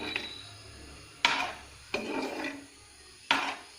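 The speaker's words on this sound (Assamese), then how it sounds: "আমলখিখিনি ভাজি থাকিম ইয়াত।" Amla gooseberries fry in syrupy sugar in a pan over a low flame, and a spoon rubs and scrapes across them in three distinct close strokes with quiet pauses between.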